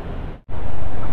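A sudden heavy downpour roars as a dense, steady hiss that briefly drops away, then returns at full loudness.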